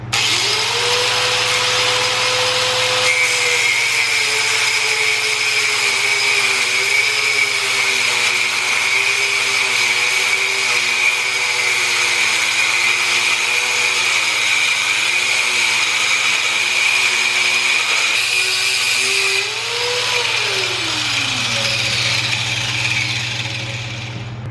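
A power tool grinds through a lug nut on a coilover setup, a loud, continuous whining drone whose pitch wavers up and down as the load changes, then winds down near the end with no talking.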